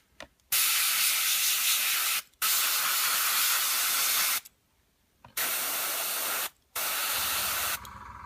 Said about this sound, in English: And then we just spray.